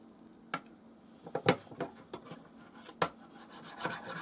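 A blade scrapes across a banded jasper Viking whetstone in slow, separate rasping strokes, some firmer than others, close and fairly quiet, with no voices.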